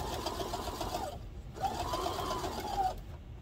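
A sewing machine stitches a baby bib in two steady bursts of rapid mechanical whirring, with a brief pause between them, close and alone with no talk.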